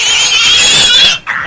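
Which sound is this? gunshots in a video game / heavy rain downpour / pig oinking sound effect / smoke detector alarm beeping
pig oinking sound effect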